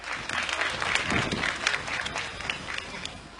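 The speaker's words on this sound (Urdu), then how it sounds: "آپ سب کی بھرپور تالیوں میں" An audience applauds a student speaker being introduced at a televised Ramadan debate competition in Pakistan, with steady, dense clapping filling the whole stretch and holding an even level throughout.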